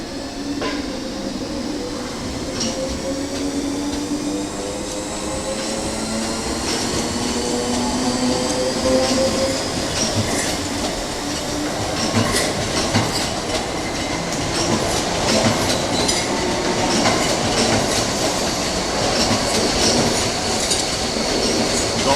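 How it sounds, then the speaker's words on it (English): Two Class 321 electric multiple units depart Ipswich Station for London Liverpool Street, a loud, building rumble of wheels and traction motors with rhythmic clickety-clack and rising whine, no voices. "we got the 1352 service to London Liverpool Street now, departing from Ipswich Station, formed of 2 Class 321 units."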